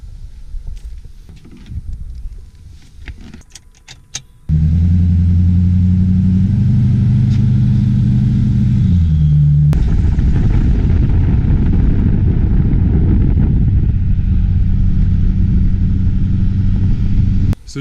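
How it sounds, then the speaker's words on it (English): A pickup truck on a test drive, with a loud, steady engine drone and rising revs heard from inside the cab, after quieter clicks and rattles at the start. "Let's go for a test drive."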